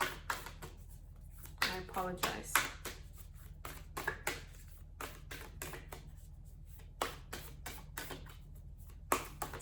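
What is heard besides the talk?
shuffling tarot cards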